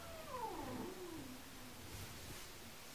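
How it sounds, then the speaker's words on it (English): A house cat gives a drawn-out yawning vocalisation, a gliding whine that falls in pitch over about a second, close by and fairly soft in a quiet room. "he just had a kitty yawn in the background"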